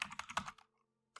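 Quick burst of computer keyboard typing, several close key clicks over about half a second while entering a Micromamba command in a terminal, followed by silence and one final keystroke.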